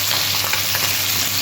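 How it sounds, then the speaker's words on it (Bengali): Mourala fish frying in hot oil, a steady, dense crackling sizzle that stays constant throughout with no voices. "বাকি মাছগুলো আমি এইভাবে ভেজে নেব"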